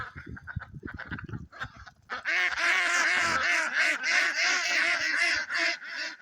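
A noisy flock of ducks quacking loudly and continuously, overlapping harsh calls close by, after a few softer scattered sounds at the start.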